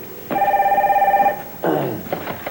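A telephone bell rings in one steady trilling burst, loud and close, then stops; a voice follows briefly afterward.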